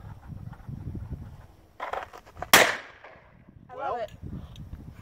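A single sharp, loud report from a Ruger Blackhawk revolver cracks out near the middle, preceded by a few small clicks and handling sounds, with a voice speaking faintly just after.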